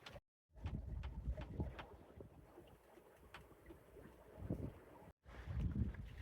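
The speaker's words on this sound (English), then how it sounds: "Afternoon wind, starting to fill in." Afternoon wind filling in on a sailboat at sea, gusty buffeting rushes against the microphone with water and hull noise, broken by two brief dropouts.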